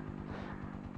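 A TMX Alpha motorcycle with about 40,000 km on it idles faintly nearby with a low, even chugging throb and no talking.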